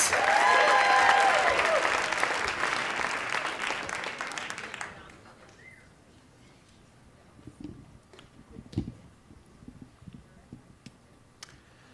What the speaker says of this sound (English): Keep your applause going for Matthew Dix.